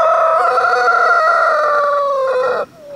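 A speckled Sussex hen gives one loud, drawn-out tonal call lasting a few seconds, close to the listener, ending abruptly with no talk over it.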